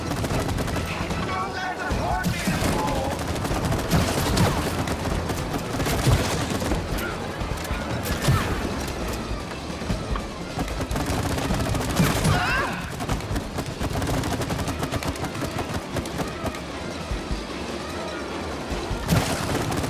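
Gunfire in the video game It Takes Two runs as dense, continuous rapid bursts at moderate loudness, mixed with game effects throughout.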